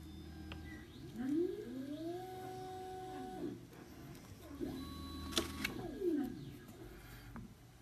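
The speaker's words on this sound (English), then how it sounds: "it's a 3D printer running in the background." A 3D printer runs in the background, its stepper motors whining in rising and falling tonal sweeps that repeat in two cycles, fairly faint and with no speech over it.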